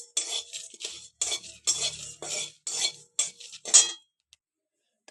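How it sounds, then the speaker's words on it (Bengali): Whole coriander seeds and dried chillies are dry roasted in a pan, heard as a series of scraping, clinking stirs in bursts, fairly close, that stop abruptly before the end. "এটাকে শুকনো খোলায় ভালো করে ভেজে নেব।"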